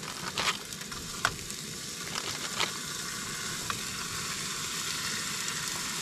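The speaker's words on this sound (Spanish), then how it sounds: "Se prendió, aceitito. Y echamos la carne." Meat patties sizzle steadily in hot oil in a van kitchen, a dense unbroken frying hiss with a few brief crackles and pops standing out over the constant bubbling.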